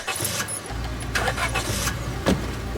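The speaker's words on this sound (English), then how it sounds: "You squeak into Duke's tiny two-seater truck, kicking your legs on either side of the gear shift" Small two-seater truck in the video game Scarlet Hollow, its engine idling in a steady low rumble with a few brief clunks and rustles over it, close and fairly loud.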